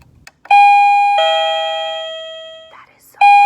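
A wireless doorbell chime rings loudly during a classroom setup, sounding two sustained bright ding-dong tones that fade slowly, then starting a third strike as the chime keeps going.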